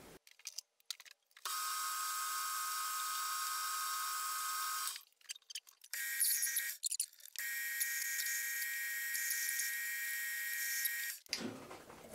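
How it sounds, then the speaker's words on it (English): A steady high-pitched whine of a lathe tailstock drilling a 12 mm hole in aluminium with a wood-cutting bit runs in two long stretches, broken by brief clatters and a pause in between. "I'm going to use my tailstock to drill a 12 millimeter hole in this using a wood cutting drill bit"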